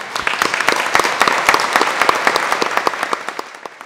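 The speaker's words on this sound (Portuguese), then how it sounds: "Uma salva de palmas a todos." An audience at a solemn evening session honoring photographers and camera operators applauds, a burst of many hands clapping close and loud, gradually thinning into scattered claps toward the end.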